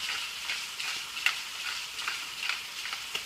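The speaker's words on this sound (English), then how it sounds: "So now that the steak is in the pan, you want to turn your heat up to high so that you retain the heat and you keep that even nice sear on it." Flank steak sears in a pan over high heat with a steady, moderate sizzle and scattered faint crackles and ticks, carrying on alone without any voices.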